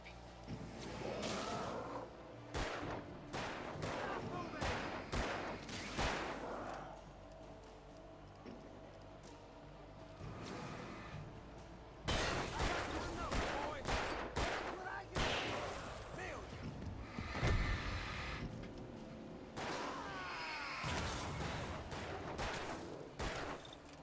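Gunfire in Alan Wake, with repeated loud shots spaced across the stretch amid game sounds and occasional talk.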